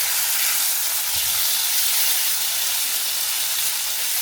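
Chicken sizzling in a hot pan just after being flipped over, a loud, steady hiss of frying fat that holds evenly throughout with no voices.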